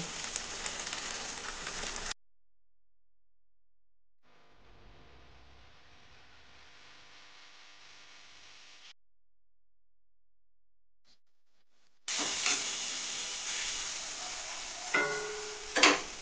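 Chilli chicken meat cooking in a pan sizzles with a steady, hissing crackle in two stretches, at the start and again near the end, with near silence between them.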